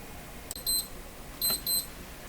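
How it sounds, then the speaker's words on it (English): A coffee alarm clock goes off with short, bright electronic beeps in two quick paired bursts, fairly faint against a quiet room hum. "coffee alarm's going off"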